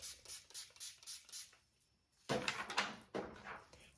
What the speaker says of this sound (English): spraying leave-in conditioner